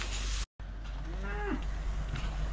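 Cattle being moved into a barn on a farm during calving season: a cow gives one clear, drawn-out moo from middle distance over a constant background rumble, with a short gap in the sound just before it and no voices.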